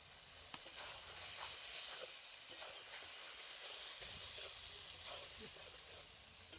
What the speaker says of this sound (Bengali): দিয়ে দিচ্ছি আমি এবারে আগে থেকে ভেজে রাখা বেগুন।